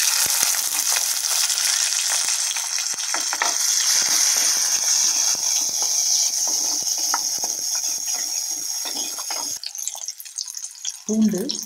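Chopped small onions fry in hot oil, with fenugreek, cumin and curry leaves, for a sardine curry, giving a loud, continuous sizzle with crackles and clinks of stirring near the end.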